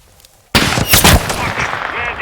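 A sharp rifle shot bursts in from silence, followed by a dense volley of loud gunfire and echoing impacts, with shouting mixed in, during a rooftop sniper ambush in the game Modern Warfare II (2022) campaign.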